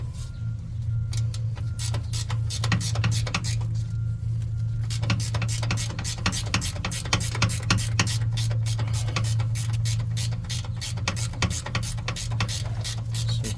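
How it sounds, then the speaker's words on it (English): Rapid clicking of a 5/8 ratchet wrench tightening the belt tensioner on a Titan 875 blower, a steady run of sharp ticks that quickens after the first few seconds, close up over a constant low machine hum. "I gotta tighten it up to get this out real quick. 5/8 ratchet wrench will be your best friend on this."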